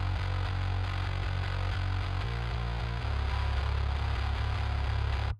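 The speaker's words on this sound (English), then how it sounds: "So pure bass fuzz" Pure fuzz-distorted electric bass guitar for pop punk, a dense gritty tone playing a steady driving line of repeated low notes that shifts pitch midway, loud and alone without talk.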